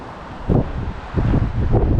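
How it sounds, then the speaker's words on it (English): Strong gusts batter the microphone during a snowy South Dakota whitetail hunt, a steady roar swelling into heavy, close buffeting bursts with no voices. "It is now very, very windy"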